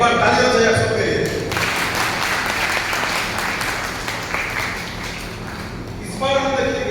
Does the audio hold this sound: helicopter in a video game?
no